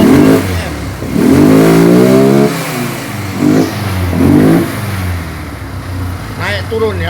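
A 200cc Comander ATV engine running close by, revving up and down in several surges over a steady idle, with someone talking over the engine.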